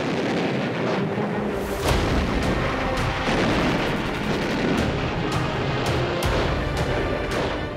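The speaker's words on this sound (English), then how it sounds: "Then, the big guns of the fleet open up." Heavy naval guns of a World War II Pacific fleet fire in a prolonged bombardment, dense overlapping booms and sharp blasts repeating every second or so over a constant loud rumble.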